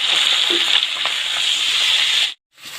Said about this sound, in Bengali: মাছ উল্টে দিচ্ছি